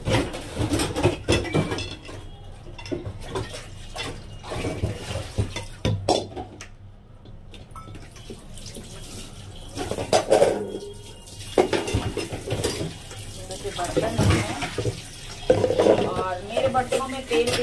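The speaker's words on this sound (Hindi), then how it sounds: "मैं आई हूँ बर्तन धोने के लिए" Dishes, pots and pans being washed by hand at a home sink, with steady clinks and clatters of utensils, scrubbing and running water throughout, fairly close, with brief quieter stretches.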